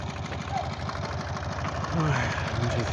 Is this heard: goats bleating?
no